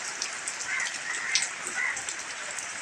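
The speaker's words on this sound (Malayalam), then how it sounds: "നല്ല മഴയത്താണ് ഈ വീഡിയോ എടുക്കുന്നത്." Heavy rain falls steadily outside a house with a granite sit-out, a dense, even hiss of drops striking the surfaces nearby. No one speaks.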